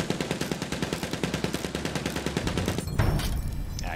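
Rapid automatic gunfire in the World War I shooter Battlefield 1 rattles in a steady, loud, close burst of about twenty shots, then gives way to scattered battle noise.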